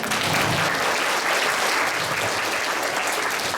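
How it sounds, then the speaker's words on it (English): Sustained audience applause at a school graduation ceremony, dense steady clapping from a crowd filling the room throughout, with no pauses. "give him a clap"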